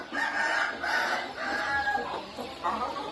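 Chickens on a Thai breeding farm cluck and crow in overlapping calls, loud and close, with several birds sounding at once throughout the short stretch.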